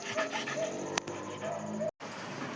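A dog whimpers and whines softly in short high-pitched bursts, close by, with faint background noise and a brief sharp knock partway through before a sudden drop-out.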